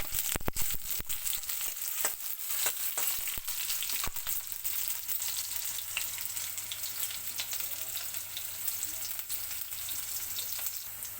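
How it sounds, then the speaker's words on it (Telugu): Cumin seeds and chopped onions fry in hot oil with a steady, close sizzle, broken by sharp crackles and pops, mostly in the first few seconds. "ఆయిల్ కాగేలోగా మనం జీలకర్ర కొంచెం వేసుకుంటాం. అందులో ఆనియన్స్ కట్ చేసి వేసుకుంటామండి."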